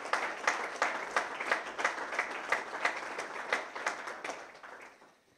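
Applause for new members of the Freedom Party at a 2020 New Year's reception, a crowd clapping steadily with rhythmic bursts before tapering off near the end.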